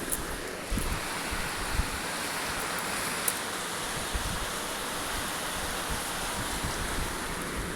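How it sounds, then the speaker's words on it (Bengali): Heavy rain pours outside in a steady, dense hiss that fills the whole clip, with no talk and only a few faint thuds beneath the downpour. "দেখো কি ঝুপঝুপ করে বৃষ্টি পড়ছে"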